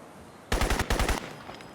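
Rapid automatic gunfire in Crysis, a burst of about eight loud close shots fired at distant trees, with a brief pause midway and a faint rustle after.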